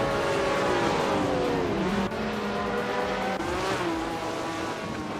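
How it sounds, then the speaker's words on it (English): Racing cars, one of them a 1994 Mercedes 180D, roar continuously with several engines droning and shifting pitch together, loud and close, with no talking. "Fox is driving a 1994 Mercedes 180D"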